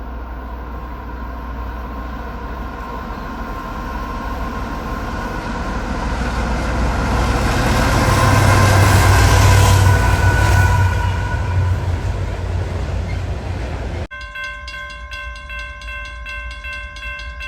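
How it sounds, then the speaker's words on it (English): Two ET44AC diesel locomotives haul a train of export coal cars past at Collier Yard, a loud rumbling roar that swells to a peak and fades before the sound cuts to another shot. "We then catch a set of 2 ET44 ACs leading a bunch of export coal cars bound for Norfolk, Virginia"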